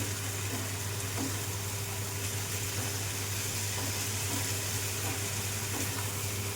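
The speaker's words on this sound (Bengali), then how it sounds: "এবার কিছুক্ষণ নাড়াচাড়া করি।" Soybean kosha fries in a pan as it is stirred, producing a constant dense sizzle with a low steady hum beneath and faint scraping of the spoon.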